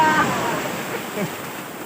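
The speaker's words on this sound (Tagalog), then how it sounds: "Ang lakas ng agos, muntik na ako matumba." A strong river current rushes steadily past, a dense, constant wash of water noise close to the microphone, with some wind buffeting mixed in.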